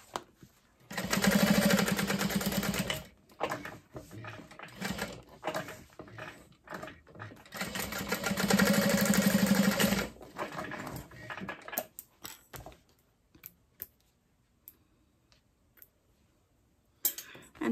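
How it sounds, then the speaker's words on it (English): A sewing machine top-stitches a messenger bag in two sustained bursts of rapid whirring, each a few seconds long, separated by pauses with small handling clicks and rustles, then quieting to occasional taps. "So you're going to top stitch along either side."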